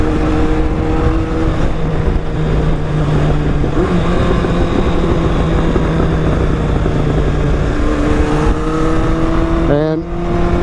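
A custom-built 1200 motorcycle engine drones loud and steady, its pitch rising through the gears during hard acceleration, with wind rush over the whole stretch.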